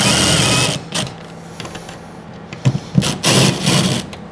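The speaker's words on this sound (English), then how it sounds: "And then you can just tighten up the screw." A screw is driven tight with a powered driver during a drain pump installation, giving a whirring buzz in bursts: a long run, a pause, then short stuttering pulses and a final burst, close and loud.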